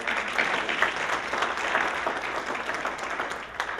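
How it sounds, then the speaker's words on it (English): Sustained audience applause at a Martin Luther King commemoration event at Essex County College, a steady dense clatter of many hands filling an indoor hall, with no talking over it. "Let's give it a round of applause."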